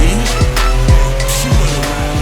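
A 1986 Sega arcade racing game plays loudly, its electronic engine note running continuously, broken by repeated tire squeals and skids at roughly half-second intervals.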